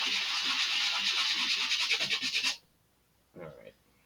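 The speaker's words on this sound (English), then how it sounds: "sanding this off, those burrs looked like they went off almost right away" Steady abrasive rasping of sanding burrs off metal on a model rocket build for a couple of seconds, then silence and one short scrape.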